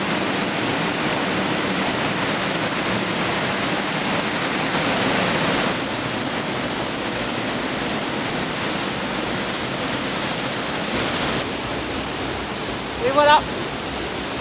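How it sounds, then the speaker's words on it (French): A waterfall pours in a natural outdoor setting, a loud, constant broadband roar filling the whole clip, with a person speaking briefly near the end over the rushing water. "Alors je l'ai filmé à peu près 100 fois cette cascade, mais j'adore toujours autant."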